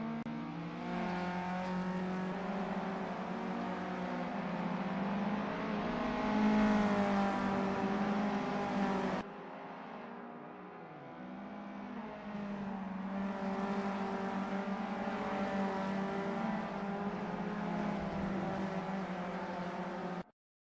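Volkswagen Up Cup race cars in the 2025 SRA series lap a circuit, riding the curbs at the limit. A loud, continuous, high-revving engine drone holds steady, dips briefly midway, then climbs again, with no talk over it.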